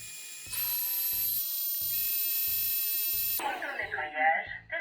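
A Dreame H12 Pro wet-dry vacuum runs its self-cleaning cycle: rhythmic mechanical clunks under a steady high-pitched whine that cuts off, then gurgling and sloshing water follow, close and moderately loud.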